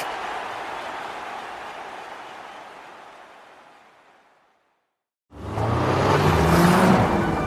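An Audi car engine drones steadily then fades away into brief silence, followed by a loud, close engine roaring back in with a rising whine.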